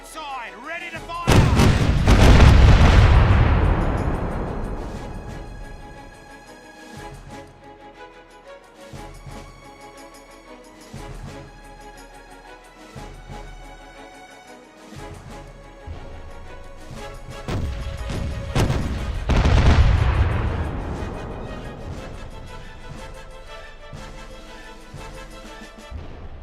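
A pirate ship's cannons fire a broadside in Caribbean Legend, a rolling volley of heavy booms swelling and decaying, then a second thunderous salvo about fifteen seconds later, with rhythmic thumps and game sounds between the blasts.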